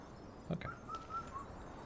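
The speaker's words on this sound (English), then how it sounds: "Oh, another bird." A bird call in the video game Wuchang: Fallen Feathers, a few faint, thin whistled notes in a short series over a quiet hum of background ambience.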